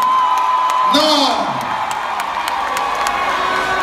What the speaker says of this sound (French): Est-ce que les femmes, vous pouvez applaudir pour vous-même d'abord ce soir?